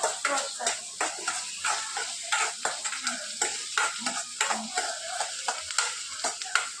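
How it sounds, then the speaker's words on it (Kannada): Green chillies, curry leaves and onion fry in a pan of hot oil while being stirred, giving a steady close sizzle broken by a rhythmic run of scraping stirs. "ಹಸಿಮೆಣ್ಸಿನ್ಕಾಯಿ ಕರಿಬೇವು ಹಾಕ್ಕೊಂಡು ಚೆನ್ನಾಗಿ ಫ್ರೈ ಮಾಡ್ಕೋಬೇಕು."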